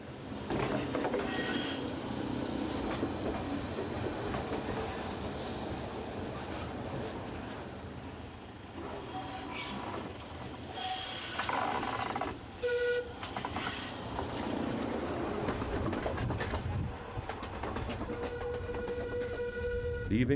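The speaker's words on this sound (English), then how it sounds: "the tram crosses the road which connects Soller to its port and continues on its way to the sea" A Soller Railway tram runs near Soller, Mallorca, crossing the road to the port, its steady rolling rumble and rail noise continuous throughout with a few squealing, ringing tones and brief clanks, fairly close, no talk.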